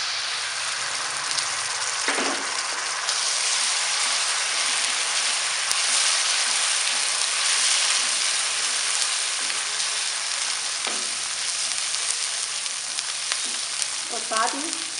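Ginger garlic paste hits golden brown onions in a pan for fish curry, setting off a steady, loud sizzle with occasional stirring scrapes and clinks throughout.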